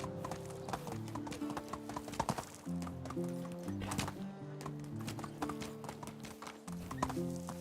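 Hooves of a ridden horse in the video game Medieval Dynasty give a steady, rhythmic clip-clop, close and clear, over tonal game music, with no talking.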